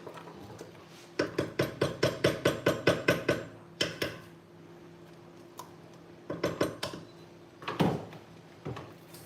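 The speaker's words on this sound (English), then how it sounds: "you want to scrape from the bottom, scrape from the sides so that you get all the goodness" A spoon scrapes around the bottom and sides of a pot of Jamaican hominy corn porridge in quick rhythmic strokes, a fast burst of about ten followed by scattered, sharper metallic scrapes, close and clear.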